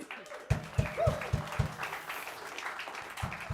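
A crowd applauds warmly, steady clapping with a few louder rhythmic claps standing out near the front.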